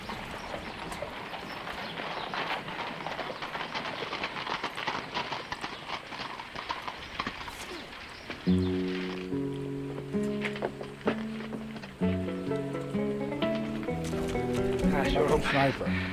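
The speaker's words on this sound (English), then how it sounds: "Billy, take the horses around the livery stable." Horses clip-clopping at a livery stable in a western setting, a steady run of hoof beats at mid distance, joined partway through by music and talk.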